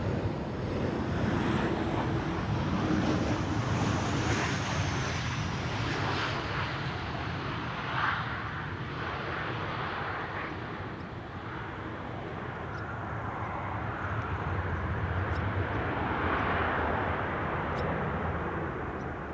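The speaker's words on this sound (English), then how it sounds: "KLM flight 1630, arriving from Venice. 737-800" A KLM Boeing 737-800 jet comes in to land, its broad engine roar sustained and loud for the whole stretch, with a faint high whine sliding downward early on and steady wind-blown rumble beneath.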